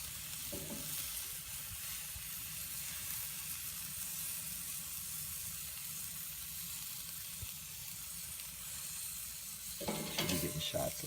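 Steak-wrapped vegetable rolls sizzle on a grill with a steady, faint crackling hiss throughout. Short bursts of louder clatter come near the start and the end.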